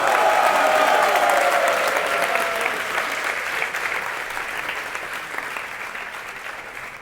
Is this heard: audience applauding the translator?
yes